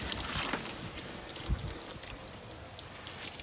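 Drained oil being poured out during maintenance of a 1978 Yanmar YM1700 tractor, a faint splashing trickle with small irregular drips and spatters, fairly quiet and close.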